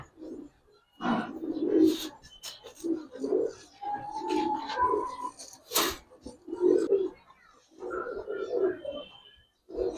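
Giribaz and coloured pigeons coo close by in a loft, with repeated soft rolling coos in bursts and a short higher whistle-like note amid them.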